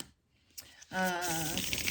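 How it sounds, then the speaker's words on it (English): Tarot cards being shuffled nearby: silence, then a brief tap, then a dense, papery burst of riffling that lasts about a second. "I'm going to give it another good shuffle"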